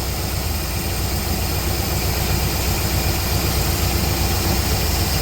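A 1969 Chevrolet Chevelle barn find idles after a carburetor rebuild, its engine holding a steady, loud, close rumble throughout with no voices over it.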